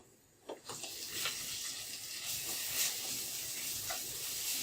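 Garlic paste dropped into softened onions and garlic frying in oil for a dried loitta fish roast, a soft continuous sizzle and hiss rising after a quiet start, faint and without voices.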